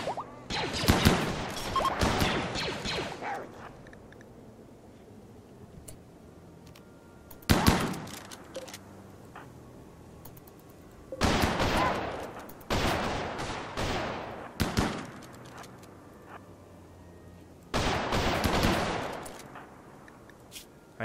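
Colonists firing guns in the game Rimworld: several separate bursts of rapid gunfire, sharp and loud, broken by quiet gaps of a few seconds between volleys.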